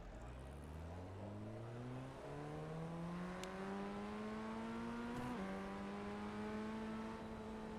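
Formula Ford 1600 race cars accelerating from a standing start at Mosport. Engine pitch climbs steadily through a gear, drops at the shift and rises again as it pulls hard, with no talk over it.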